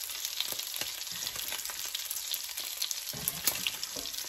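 Pork browns in a frying pan for Bicol Express, a continuous close crackling sizzle broken by scraping stirs and soft clicks of a utensil, with no talking.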